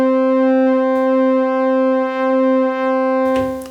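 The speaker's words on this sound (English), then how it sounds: "if you modulate the width of this pulse, it sounds like this." An Elektron Syntakt synth plays a pulse wave with its width modulated: one steady, buzzy, harmonically rich tone held loud and alone for several seconds, ending in a brief noisy burst.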